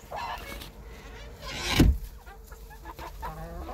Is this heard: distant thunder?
no